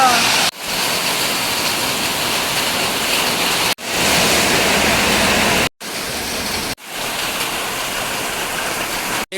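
Heavy rain pours down in a loud, dense roar of hissing noise, cut off abruptly several times before resuming at full strength.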